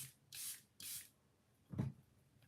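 Beauty Blender makeup setting spray hisses in two short close bursts, followed by a softer pat or rub, with no talking.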